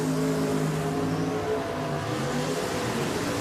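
A 2004 Worthy dragster roars down a drag strip in a loud, continuous engine drone that holds steady and then dips slightly in pitch.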